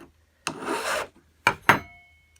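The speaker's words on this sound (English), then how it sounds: "just run the stroke of the file right straight across like this" A metal file rasps across a woodworking scraper blade in three strokes, one long sustained pass followed by two short sharp ones, close and distinct against quiet.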